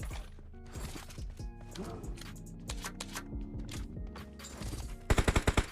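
Gunfire in a mobile battle royale game match, with rapid bursts of shots scattered throughout under game music and effects, ending in a loud, evenly spaced volley of close shots.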